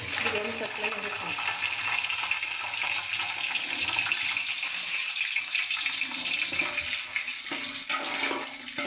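Cashew nuts frying in hot oil in a pan while making biryani, a steady bright sizzle that holds level throughout with a small flare near the middle.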